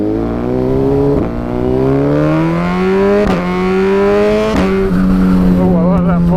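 A remapped Suzuki GSX-R1000R motorcycle revs hard and close, its engine note climbing in steady sweeps, with sharp exhaust pops cracking at each gear change.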